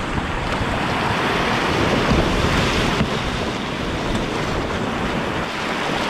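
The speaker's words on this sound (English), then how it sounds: "It looks like it's just a busy little creek the whole way" A busy little mountain creek, a tributary of the Elk River in Colorado, rushes and burbles continuously at close range, steady and fairly loud, with some wind noise on the microphone and no talking.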